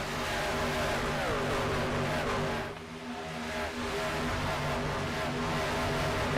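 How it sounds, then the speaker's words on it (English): Racing trucks in a truck racing video game roar past at Michigan, engines loud and continuous with a brief dip midway before the noise swells again. "Down the front straightaway, the car streamed by"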